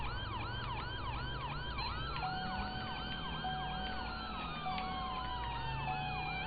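A wailing police siren in GTA 5 (LSPDFR mod) cycles steadily and loudly, with a second siren tone layered over it and a low engine hum underneath.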